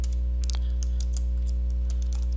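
Shift and control keys pressed on a computer keyboard make a handful of light, irregular clicks over a steady electrical hum.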